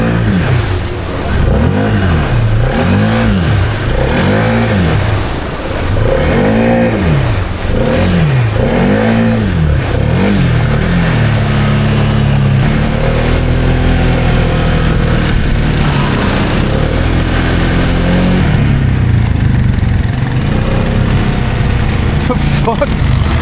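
Dirt bike engine on a night trail ride, revving in repeated rising and falling surges, then holding a steadier drone, loud and close throughout with occasional voices underneath.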